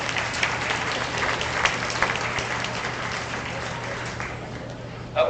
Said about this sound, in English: let's give all of our seniors one more big round of applause